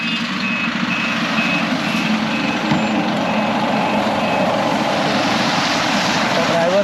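A Jakhmale Travels sleeper bus arriving from Mumbai manoeuvres at a stop, its reversing beeper repeating in a steady evenly spaced pattern over a continuous low engine rumble, with voices talking nearby.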